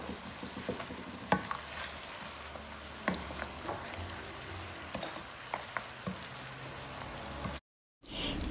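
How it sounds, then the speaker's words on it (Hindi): Salted mutton pieces frying in a pan with salt and black pepper while being stirred, a soft, crackling sizzle dotted with scraping clicks, ending after a brief pause. "अब हम इसको आधे घंटे के लिए ऐसे ही फ्राई करेंगे और साथ साथ जो है इसको हिलाते रहें"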